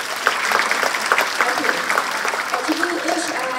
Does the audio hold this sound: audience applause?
yes